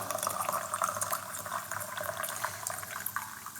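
Brewed tea pours from a gaiwan in a steady, close trickle of liquid lasting several seconds, with no voices.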